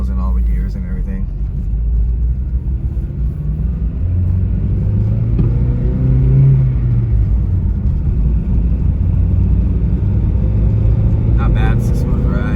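A stock Acura RSX base model with only an aftermarket intake is driven after an engine swap. It gives a steady, loud engine drone and road rumble throughout, rising briefly mid-way as it pulls through the gears.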